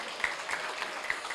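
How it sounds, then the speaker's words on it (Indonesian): Audience applause at a public lecture for a public administration study program, a brief burst of clapping from a hall crowd, fairly loud and even with a few sharper claps. "Silahkan tepuk tangan dong."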